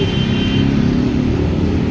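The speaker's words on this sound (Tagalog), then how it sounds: "Mga sasakyan lang dyan" Cars drive along a road below under hot weather, giving a continuous loud rumble of traffic with a steady engine drone and no voices.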